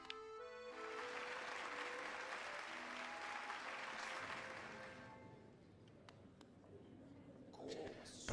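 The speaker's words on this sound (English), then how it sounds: "Here how the crowd adores you" A crowd applauds in the video game Hollow Knight, a dense burst of clapping that fades after a few seconds into quieter background sounds with faint voices.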